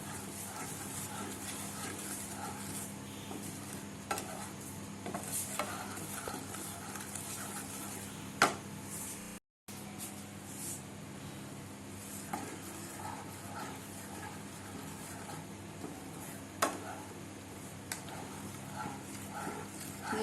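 Sugar caramel for malai kulfi cooks on a low flame while a spoon stirs it, giving a soft steady hiss with faint scraping and occasional clicks of the utensil. No one speaks.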